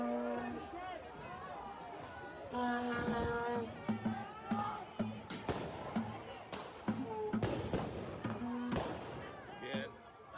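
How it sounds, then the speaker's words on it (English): Several sharp explosions burst out one after another near a city police precinct, each loud crack standing out over steady crowd chatter and shouting on a busy street, with windows reported damaged. "Several explosions heard over here now by the East Precinct."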